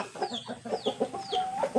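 Burmese game fowl chickens cluck in a rapid run of short, close clucks with a few higher squawks rising over them, no talk.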